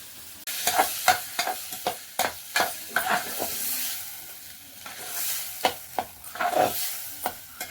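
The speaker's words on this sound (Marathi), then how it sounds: "हिरवे हिरवे टमाटे आणि मिरच्या मधात मिक्स करून त्याला थोडं गरम करीत आहे" Green tomatoes and chillies with onion are stirred and heated in oil for a homemade chutney, making a soft sizzle broken by a string of sharp, irregular scraping and clinking strokes close by.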